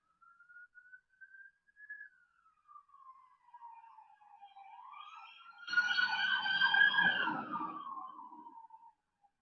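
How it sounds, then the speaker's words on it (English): An ambulance siren wails at a distance, one long rising and falling tone that grows louder and richer as the vehicle passes close by with rumbling traffic noise, then fades away. "There's always a fucking ambulance coming in the video."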